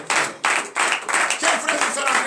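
A church congregation at morning prayer claps in acclamation, loud, dense rhythmic clapping in steady bursts with voices mixed in.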